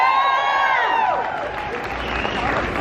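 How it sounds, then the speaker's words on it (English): Crowd at a March for Our Lives rally in Chico cheering and clapping for elected officials, a steady roar of applause and whoops filling the space, with a voice briefly audible over it. "let's give them a round of applause"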